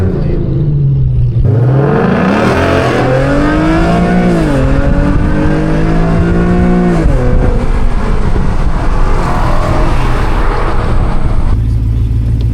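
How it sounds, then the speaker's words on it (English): Harsh exhaust from a straight-piped Infiniti Q50s blips and drops through several gears, the pitch jumping on each quick rev-matched downshift, loud and close throughout. "This thing's downshifts are so crispy."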